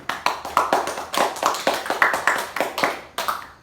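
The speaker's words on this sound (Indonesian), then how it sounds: "Tepuk tangan buat kalian semua." A primary school class claps hands together in a loose, uneven rhythm, with quick bursts of sharp, close claps repeating over a few seconds.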